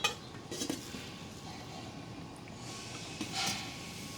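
Metal lid set onto a cooking pot of ginataang kangkong with shrimp, a short clanking clink near the start and another light clatter toward the end over a steady simmering hiss, with no speech.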